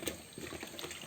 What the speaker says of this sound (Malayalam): ആ പുളിയും പരിപ്പ് പിഴിഞ്ഞതും കൂടെ ഇതിൽ ഒഴിച്ച് കൊടുക്കും